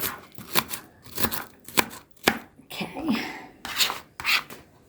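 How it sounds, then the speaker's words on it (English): Knife dicing onion on a cutting board for a pizza topping, giving a run of separate sharp chops in irregular bursts, close and fairly loud, with no talk. "And dice them really small"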